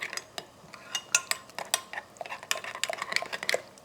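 A spoon clatters and scrapes against a metal pot while tomato paste and spices are stirred together, giving a quick, irregular run of close clinks and scrapes with no voices.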